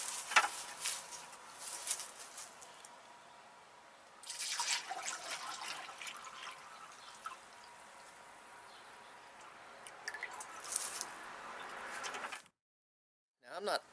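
Antifreeze pours and trickles into a Jeep during a water pump install, a close, steady liquid splashing with brief louder bursts and a short silence near the end.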